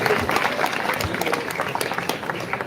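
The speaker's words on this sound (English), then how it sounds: "Give a great round of applause for Akila." Applause for Akila after her speech at a student speech competition, lively clapping from the audience with individual sharp claps audible in the mix, steady and close throughout the short stretch.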